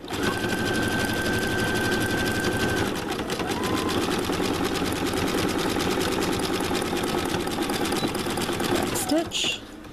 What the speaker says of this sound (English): So we're double stitching that